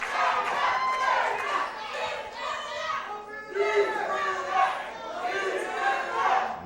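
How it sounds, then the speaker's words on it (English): A crowd at a wrestling event at Landmark Arena, with many voices shouting and cheering in surges and swells, fairly distant and busy throughout. "Listen to this crowd"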